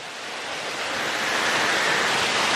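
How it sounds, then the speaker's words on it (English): Waterfall beside the Mt. Baldy trail in California, a steady broadband rush of falling water that swells slightly louder as the listener draws near, with no talking. "Oh, look at the waterfall."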